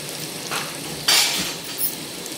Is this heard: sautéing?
yes